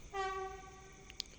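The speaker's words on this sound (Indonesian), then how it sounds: "langsiran kereta api bias masuk stasiun Caruban" A train horn sounds one short blast, followed by a couple of faint metallic clanks as an Indonesian train rolls slowly into Caruban station.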